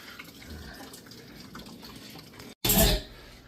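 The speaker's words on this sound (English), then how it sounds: "Starting to drain the coolant now." Coolant drains from an Acura TL Type S under repair, a steady watery trickle and splash at moderate level that breaks off briefly, then returns as a louder, fuller gush of fluid for a moment before settling back.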